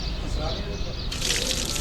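Water runs at an outdoor water pump during morning washing, brushing teeth and rinsing face and hands; a steady splashing hiss grows fuller and louder partway through.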